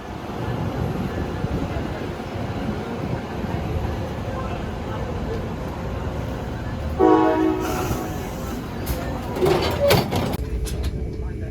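An Amtrak train departing Ann Arbor rumbles steadily in an interior ride ambience, then sounds two short horn blasts a few seconds apart, muffled and moderately loud.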